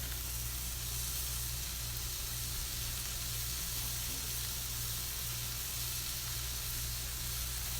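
Ground meat with onion sizzling in a hot pan, a steady dense hiss of frying with low hum underneath, close and continuous with no talk.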